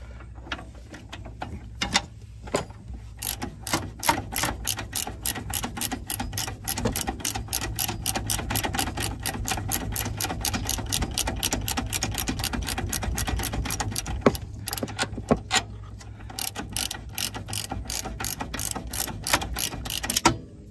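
Long bolt being ratcheted out of an early-2000s Mercedes during ABS wheel speed reluctance ring replacement, a close, steady run of rapid ratchet clicks lasting about twenty seconds with brief pauses near the start and middle.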